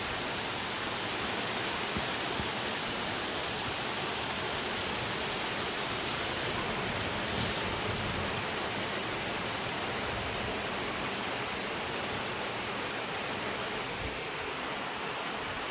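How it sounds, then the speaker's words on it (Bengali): Steady, dense rush of rain falling outdoors, a continuous even hiss with no voices. "কেমন বৃষ্টিটা হচ্ছে দেখুন"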